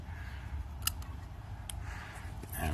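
Scissors snipping stems of rue herb, a couple of sharp clicks from the left-handed blades over a low steady background hum, with no talking.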